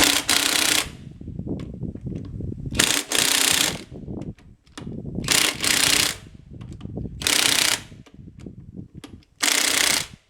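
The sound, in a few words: torque wrench tightening clutch on 671 sawmill engine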